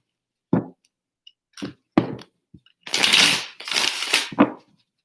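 Tarot cards being shuffled in short riffling bursts, a few quick flicks then a longer ruffling shuffle, close and clear.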